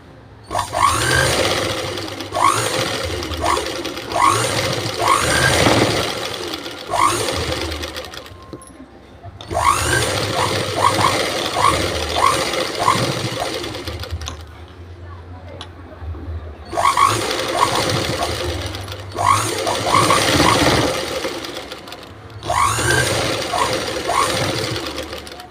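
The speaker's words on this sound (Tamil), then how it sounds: "இப்போ அடுத்து இன்னொரு தையல் போடணும்." A sewing machine stitches fabric in long, loud, rapid runs of mechanical thumping, stopping briefly between seams and then starting up again.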